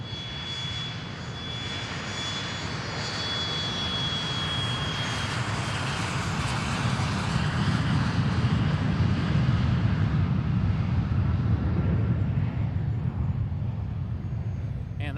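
A Praetor 500 private jet departs Boeing Field with a loud, continuous engine roar that swells and holds steady, a thin whine fading out early on.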